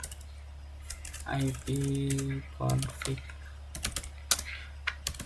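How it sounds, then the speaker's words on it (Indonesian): A brief voice is heard, then rapid clicking keystrokes on a computer keyboard as a command is typed into a command prompt, close and moderately loud over a steady low hum. "Di CMD kita ketikkan ipconfig"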